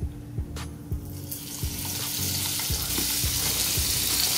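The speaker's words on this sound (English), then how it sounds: "you want to put on a tablespoon of butter to melt" Butter melting in a hot non-stick frying pan over medium heat, a steady soft sizzle that builds and thickens over the seconds, with a few low knocks from the pan and utensils underneath.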